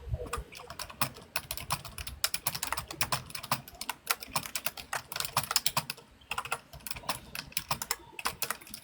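Rapid, uneven clatter of keys on a computer keyboard, heard close and alone, with brief pauses between bursts of typing.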